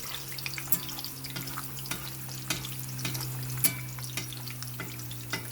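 Eggs frying in a nonstick pan for huevos rancheros, a steady close sizzle with a low hum beneath and scattered small pops and spatula scrapes.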